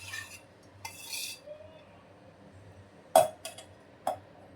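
A spoon scrapes and clinks against a steel mixer jar as cooled ridge gourd is moved in, with a few sharp metallic taps separated by quiet pauses.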